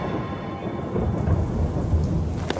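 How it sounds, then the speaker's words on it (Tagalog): Heavy rain pours steadily with a low rumble of thunder rolling underneath, loud and continuous throughout, with no voices present. "Grabe, ang lakas ng ulan."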